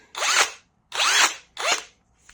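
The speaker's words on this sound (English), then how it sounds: "the Hercules impact drill, and it worked real good" A Hercules impact drill from Harbor Freight runs in three loud, close bursts of whirring and rising pitch, each about half a second long with short pauses between, followed by a faint brief click.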